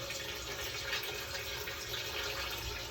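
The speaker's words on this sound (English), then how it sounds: "And I'm running the shower and the sink right now." A shower and a sink run together and drain into a basement sewer ejector pit. The water makes a steady, loud, broadband rush with no breaks.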